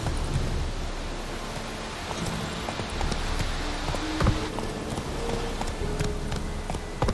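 Hooves of Roach, Geralt's horse in The Witcher 3: Wild Hunt, galloping in a fast rhythmic clip-clop beneath a steady rush of wind and ambient noise, with a few sharper thuds.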